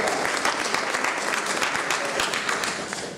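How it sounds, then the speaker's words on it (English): Steady applause from an audience at a 2012 Galveston candidate forum, continuous dense clapping holding at an even level for the whole stretch before easing slightly at the end. "I think that you should give yourself an applause."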